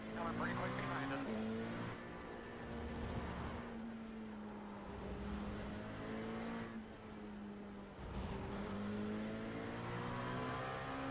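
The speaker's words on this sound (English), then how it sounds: "you could just hear the LMP, the caddy come up behind you" A Cadillac LMP prototype race car closing in from behind in iRacing at an IMSA race, its engine note rising and falling through gear changes as it draws near, with a driver talking over it.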